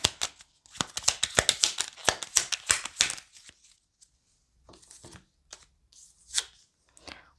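A quick, crackling riffle of playing cards being shuffled, followed by a few sparse, soft card slides and flicks as cards are drawn.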